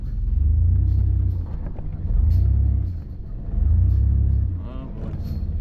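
A truck engine nicknamed Old Sonoma rumbles deep and heavy in close surges, revving harder in repeated pushes while forcing through a tight spot among cattle.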